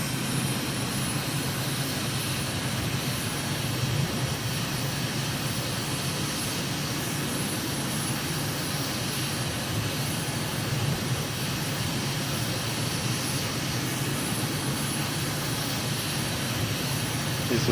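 A light aircraft on a landing approach near Harare, Zimbabwe, drones with a loud, constant engine roar heard from inside the cabin, unbroken for the whole stretch.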